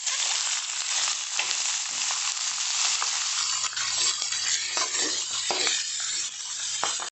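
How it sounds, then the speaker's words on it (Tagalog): Squid sautéing in a pan with garlic and ginger, a steady loud sizzle that runs the whole time, with stirring scrapes and small utensil knocks scattered through it. "And lagay na natin yung ating sangkutsa natin itong ating pusit."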